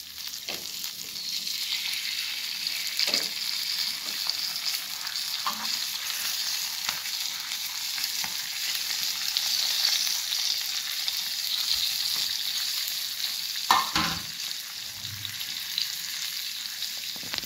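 Fish fries in a hot pan at home, a constant close sizzle and hiss with a few faint clinks and taps over it, and no talking.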